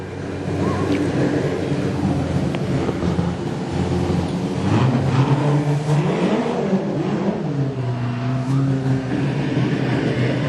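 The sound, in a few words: race car engine driving down the speedway back straight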